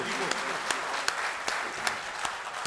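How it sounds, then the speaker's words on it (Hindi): Audience applause at an All India Mushaira poetry gathering, a steady wash of many hands clapping with a few sharper claps standing out, fairly close and sustained throughout. "एक बार जोरदार तालियां आपकी मौजूदगी को"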